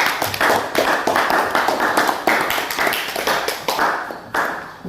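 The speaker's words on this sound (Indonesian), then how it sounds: "Berikan aplaus." A classroom of students claps together for about five seconds, the steady applause close and lively, with no talk over it.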